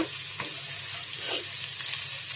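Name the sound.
stirring vermicelli with ghee, spices, sugar and coconut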